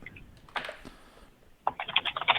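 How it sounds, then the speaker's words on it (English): Clicky computer keyboard typing, with a short burst of keystrokes, then a pause, then faster, denser typing toward the end, fairly close. "Wow, Anne, you're typing. I can hear it from here without my headphones in"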